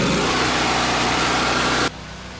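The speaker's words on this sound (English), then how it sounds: "This is the machine, and what this is going to do is clean it effectively" Patio cleaning machine engine running at a steady, loud drone close by, then cutting to a much quieter level near the end of the short stretch.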